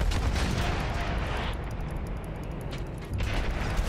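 A tank cannon fires in Battlefield 1 gameplay: heavy, booming blasts over a dense, continuous wall of battlefield noise, with a brief lull before another loud burst near the end.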